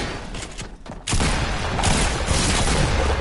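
Gunfire in a battle royale video game, a loud sustained burst of rapid shots with booming noise that starts abruptly after a quieter, muffled second.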